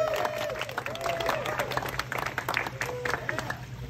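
A graduation audience applauding during a speech, a dense rolling patter of clapping from a crowd with scattered cheers and speech mixed in, loud and sustained.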